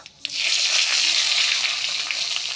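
Panch phoron and bay leaves sputter in hot oil for lentil-fritter curry, a loud, steady, dense sizzle that bursts in after a brief quiet start and crackles without pause.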